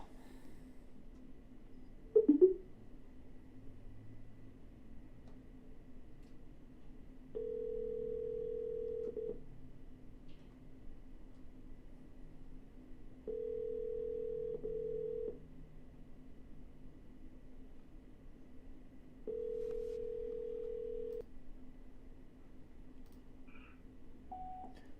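Outbound phone call during a real estate cold call: a brief burst of dialing tones, then three evenly spaced ringback tones, each about two seconds long, over a quiet line.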